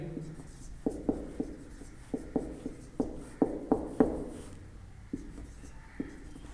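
Pen writing on paper while working a maths exercise, a series of close scratchy strokes and taps in an uneven rhythm, heard alone and fairly soft.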